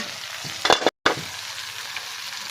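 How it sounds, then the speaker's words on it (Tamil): Curry leaves drop into hot oil for a brinjal tamarind curry, bursting into a loud crackling sizzle with a brief sharp spatter, then settling into steady frying hiss. "இப்போ போட்டுக்கிடுவோம் கருவேப்பிலையை மட்டும்"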